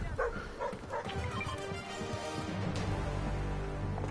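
A dog barks and yips repeatedly inside a Fortnite match, the game's barks fairly close and prominent with faint background game noise and no talk.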